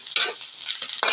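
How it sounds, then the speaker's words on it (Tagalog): Garlic and onion sautéing in leftover oil from frying smoked dried fish, heard as short bursts of bright sizzle with stirring scrapes, close and fairly loud, with no talk. "Sa pinagprituhan natin ang tinapa, igisa na po natin ang bawang at sibuyas."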